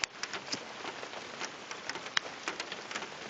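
Steady rain patters outdoors, a close continuous hiss broken by scattered sharper drips and taps on hard surfaces, with no voices.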